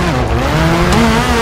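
A rally car in the WRC 4 video game slides through a tight hairpin on the handbrake, giving a short, loud tyre skid over the engine drone.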